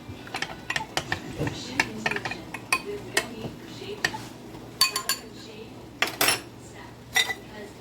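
A utensil mixes ingredients in a bowl, producing irregular clinks and scrapes of metal against dish at close range, sharp taps scattered over a quiet background with faint voices.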